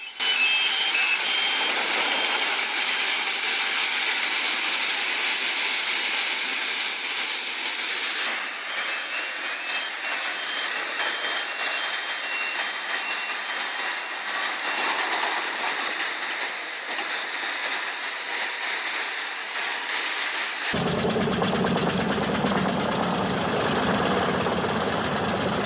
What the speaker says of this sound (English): Watch as the tree shaking machine revolutionizes almond harvesting.